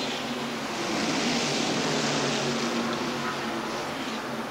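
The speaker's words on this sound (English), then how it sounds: "You're watching from the Family Channel blimp, hovering high above Talladega Superspeedway." A steady broad engine drone from the Family Channel blimp hovering high above Talladega Superspeedway during a 1993 NASCAR race, constant and fairly loud throughout with no voices heard.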